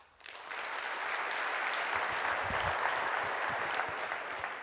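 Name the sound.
audience applause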